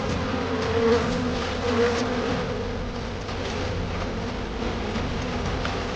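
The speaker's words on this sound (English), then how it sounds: "thousands of furious bees swarmed around it." A swarm of furious bees buzzing around a hive torn open by a honey badger, a dense, steady drone close up and loud, with no voices.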